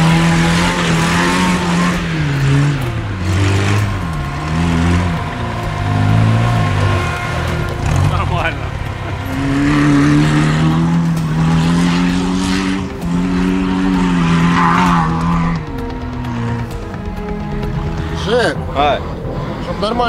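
A car climbing a hill off-road, its engine droning and rising and falling in pitch as it labors under load, loud and continuous while people talk inside the vehicle.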